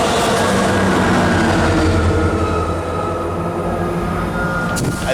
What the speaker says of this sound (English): Let the train pass.